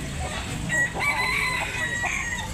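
Roosters crowing among fowl for sale at the Tabunok market in Talisay, Cebu, with a clear crow stretching across the middle over busy background noise.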